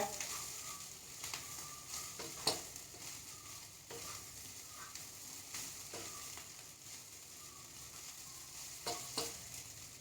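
Soaked flattened rice upma, Kerala aval upma, being stirred in a pan, quiet soft sizzling with a few intermittent scraping strokes of the spoon against the pan, faint throughout.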